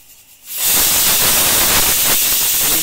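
A pressure cooker cooking mutton masala lets loose a sudden, loud, sustained steam hiss that bursts in after a brief quiet moment and holds steady close by.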